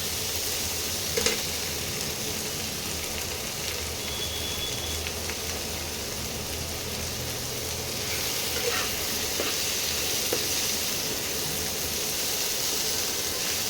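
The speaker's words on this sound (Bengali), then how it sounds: "পেঁয়াজ টমেটোটা একটু ভাজা ভাজা হোক" Onions and tomatoes sizzling steadily in a hot pan while fish roe is prepared for a Bengali dish, a continuous close frying hiss with a few faint clinks of stirring.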